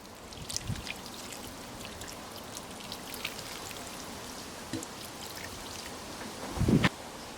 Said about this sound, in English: First, water the seedlings.